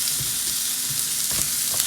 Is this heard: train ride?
no